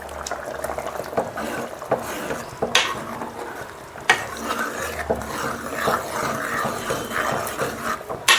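Fresh raw coconut paste being stirred into a home-style slow-cooked mutton nalli bokkalu curry in a pot, giving soft wet scraping and occasional spoon clinks against the pan, close and steady with no talking.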